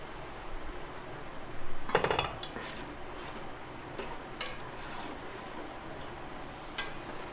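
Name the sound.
stirring chicken khichuri in a rice cooker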